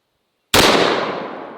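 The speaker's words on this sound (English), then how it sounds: "It's a breech load, single shot, hand cannon." One very loud gunshot from a breech-loading single-shot hand cannon cracks out of near silence and leaves a long, decaying boom that fades over the following second.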